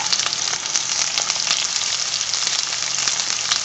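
Onions and spices fry in hot oil, giving a loud, steady crackling sizzle with sharp pops and spatters throughout, no voices.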